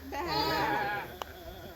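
A single wavering, nasal bleat of a sheep, fairly close and moderately loud, followed by a brief click and quiet background hiss.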